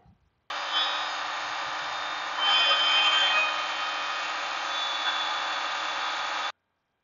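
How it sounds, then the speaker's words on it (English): A power saw or cutting tool slices through the exhaust pipe of a Chevy Trailblazer during a catalytic converter replacement. The steady, loud cutting whine runs alone for about six seconds and swells briefly partway through. "I'm going to cut this exhaust pipe right here, get this out of the way"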